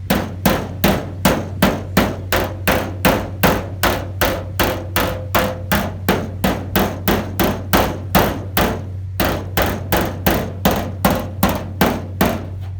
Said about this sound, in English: Try to lift up a little bit while I hammer.